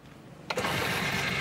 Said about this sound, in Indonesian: kita langsung selah aja nih